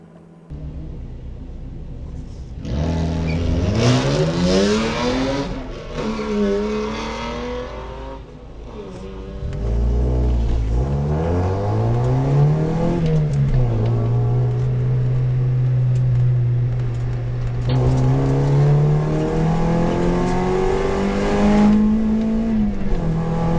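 A 140 horsepower race car lapping Pukekohe racetrack, engine revving hard through gear changes, climbing and dropping pitch, then holding a sustained high-speed drone near and loud from the cockpit.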